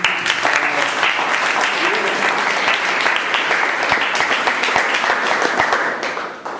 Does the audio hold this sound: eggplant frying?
no